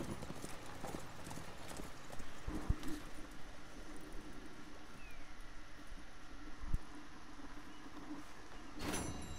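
Horse hooves clip-clop steadily in Red Dead Redemption 2, a continuous moderate trot at close range with a few sharper knocks and no voices over it.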